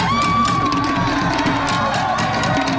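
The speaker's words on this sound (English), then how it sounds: "They're screaming the warrior chant." Polynesian men on a street scream a Samoan warrior chant, a dense, continuous wall of loud shouting voices that sounds like a cheering crowd throughout.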